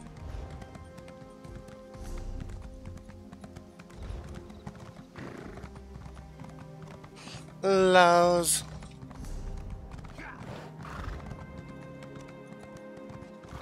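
Quick hoofbeats of a video-game horse clip-clop along faintly in the background in The Elder Scrolls Online, and the horse whinnies loudly partway through, with a little talk around it.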